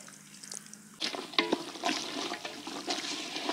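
Lemon juice from two squeezed lemons is poured into biryani masala in a pot, making a brief liquid trickle and splash after a quiet start, fairly close and with no talking.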